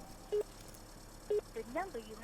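A mobile phone number is keyed in, with short, bright beeping keypad tones spaced out at irregular moments, while someone speaks between and over the presses.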